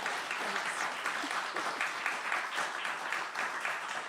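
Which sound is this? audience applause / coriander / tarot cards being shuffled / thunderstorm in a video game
audience applause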